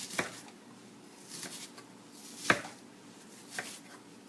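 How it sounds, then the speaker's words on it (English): A knife roughly chops cabbage on a cutting board for baked cabbage, four sparse, separate knocks spaced about a second apart, close and fairly quiet with no talk. "Let's give this a little bit of a rough chop."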